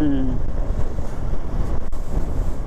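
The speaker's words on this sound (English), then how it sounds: "Oh, it's windy." Wind buffeting an outdoor microphone, a loud, rough rumble that surges and dips unevenly across the whole stretch.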